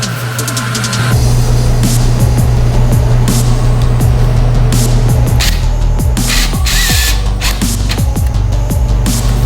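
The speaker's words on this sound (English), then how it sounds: "So I'm gonna try to put the first screw in here." A power drill drives screws to attach a front lip to a Honda Civic EF hatchback, whirring in a loud, close, steady run with clicks and clatter over a constant outdoor hum.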